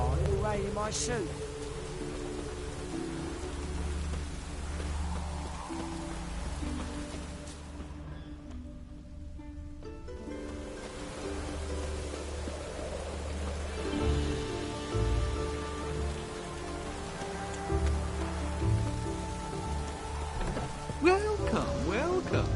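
Rainfall in The Witcher, a steady soft patter running throughout beneath music and game ambience, with spoken dialogue over the top.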